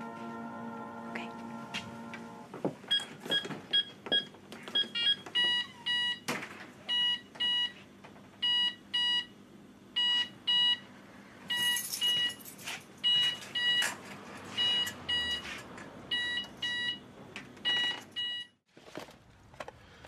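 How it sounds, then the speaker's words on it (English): A home burglar alarm beeps while being set, a steady run of short electronic tones in a regular rhythm, coming in fairly close over a faint background for most of the time. "you go on out and I'll set the alarm"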